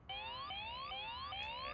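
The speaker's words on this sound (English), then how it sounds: "Now, this bike does have an alarm mode." An e-bike anti-theft alarm on an Urtopia Chord sounds, a rising whooping tone repeating about four times in quick succession, clear and fairly close.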